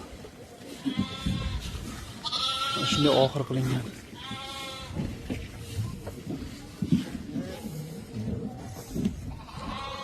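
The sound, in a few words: lambs and sheep bleating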